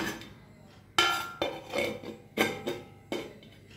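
Metal clanks and clinks as a lid is set onto a pot of avial vegetables on a kitchen stove, several sharp separate knocks with short ringing tails at moderate volume.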